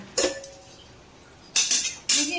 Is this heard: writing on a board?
no